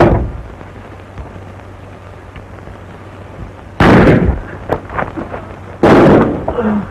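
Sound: gunshot from a pistol in a 1932 film

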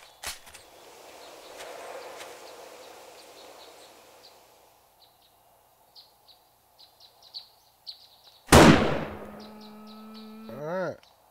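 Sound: gunshots in video game 7 Days To Die

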